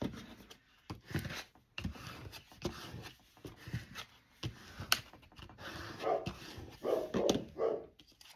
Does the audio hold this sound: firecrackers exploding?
no